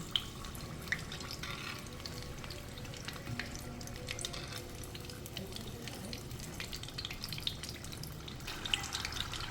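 Stuffed samosas fry slowly in hot oil over a medium flame, giving off a steady, dense bubbling sizzle with scattered crackles that holds throughout.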